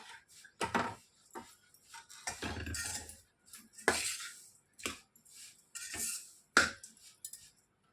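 A spoon stirs cardamom and nutmeg powder into a gond laddu mixture in a pot, giving intermittent scraping and clinking strokes in irregular bursts with short quiet gaps, close and fairly loud.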